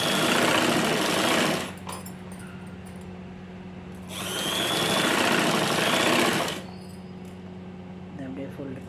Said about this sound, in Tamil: இப்போ ஸ்டிச் பண்ணிடுறேன்